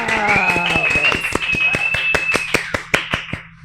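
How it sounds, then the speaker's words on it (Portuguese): Sharp, evenly spaced claps ring out in a quick steady rhythm on a Brazilian podcast recorded at a clinic in Brasília, with a sustained tonal voice-like sound running over the first part. "Minha gente, uma salva de palmas!"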